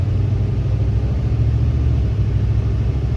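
A BMW 740 with a V8 engine runs steadily under power while burning oil, a loud, continuous low rumble with no break and no talk over it.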